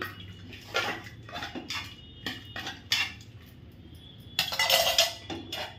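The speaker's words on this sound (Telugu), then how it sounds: "ఒకసారి కలుపుకుంటున్నాను" A spoon clinks and scrapes against a pot while cooled brinjal and raw mango dal curry is stirred, a few quiet, irregular metallic knocks and scrapes with a brief louder clatter near the end.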